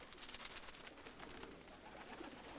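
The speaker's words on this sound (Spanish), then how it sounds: "Mirad cuántas palomas." Pigeons coo softly in an outdoor setting, a few low murmuring calls repeating under a faint, airy background, with no voices.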